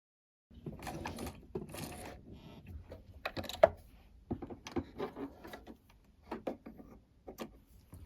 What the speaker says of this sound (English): we're going to sew these 2 pocket pieces to my actual fabric